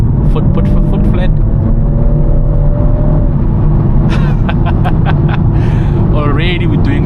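A BMW M140i under hard full-throttle acceleration, its engine a steady loud rumble and rising drone through a single pull, with a person talking briefly over it.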